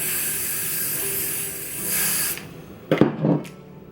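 Steady misty hissing from a spray bottle onto a hair wig being installed, followed by a couple of short sharp spritzes near the end, close and fairly quiet.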